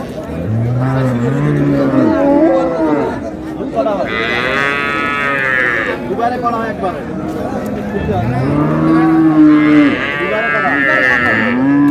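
Cattle moo loudly and repeatedly at a busy livestock market, long drawn calls from cows and calves rising over a background of crowd chatter and voices.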